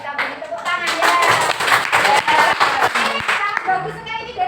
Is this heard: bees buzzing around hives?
no